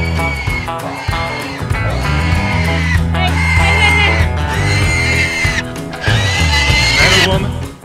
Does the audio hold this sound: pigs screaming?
yes